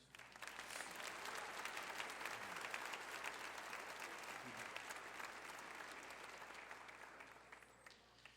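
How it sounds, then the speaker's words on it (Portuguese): Church congregation applauding during an anniversary evening service, a broad wash of clapping that swells and holds steady for several seconds, then thins out toward the end, with a low hum beneath. "Podemos aplaudir a Jesus?"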